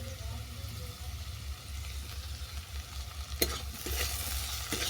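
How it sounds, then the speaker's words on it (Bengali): Gourd peel curry with tomato and chopped green chilli is stirred and fried in a pan, giving a soft, steady sizzle with low rumbling and a few brief scraping clatters, faint and close, with no talk. "এটাকে আমি আরও 2 মিনিট নেড়ে নেব। আরও 5 মিনিট ধরে ভেজে নিয়েছি।"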